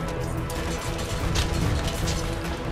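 A grenade explosion in Borderlands, dense crashing blasts and debris noise filling the moment, partly under a speaking voice.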